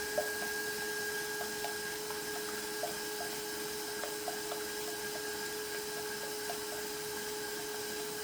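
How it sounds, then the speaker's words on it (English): Sponge cake batter of eggs whisked to a fluffy, creamy mix, heard as a steady mechanical whirring hum broken by faint, regular ticks and clicks throughout, with no one talking. "I'm going to whisk this all together so it's nice and fluffy."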